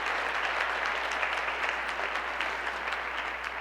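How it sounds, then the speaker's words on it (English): Audience applause for John Michael Hires at a high school speech state finals, a steady, moderately distant wash of clapping from a crowd. "you can clap for John Hires if you know him"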